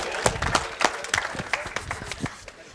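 An audience at a comedy talk claps in a short, uneven burst of scattered, sharp handclaps that thin out over a couple of seconds.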